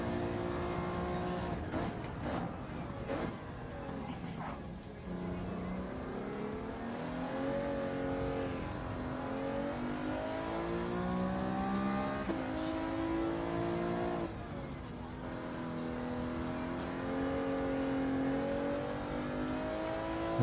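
Race car engines roar through a Gran Turismo 7 race at Fuji Speedway, with a Porsche among the cars, their tones steadily climbing and dropping with gear changes, loud and continuous for the whole stretch.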